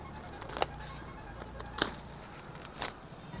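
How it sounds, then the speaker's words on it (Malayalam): Packaging of a OnePlus phone being torn and cut open during an unboxing, with sharp crisp rips and crackles at irregular intervals, close up and with no talking. "നമുക്കിതൊന്ന് അൺബോക്സ് ചെയ്ത് നോക്കാം അല്ലേ"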